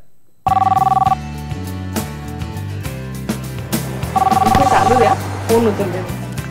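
A telephone rings in two bursts of electronic trilling, loud and near, over a steady background of music, with a voice coming in between the rings.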